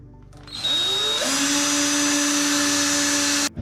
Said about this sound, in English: Now I got the right drill for this.